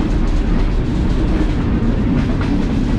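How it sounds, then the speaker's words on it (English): A train pulled by locomotive number 1 on the Northern Central Railway rumbles loudly and continuously along the rails, with a steady low roar and faint rhythmic clacking. "Listen, I'm on a train."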